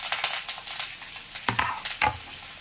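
Curry leaves and onion sautéing in hot oil for pakoda kuzhambu, a soft continuous sizzle broken by a few sharper stirring scrapes, close up and without speech.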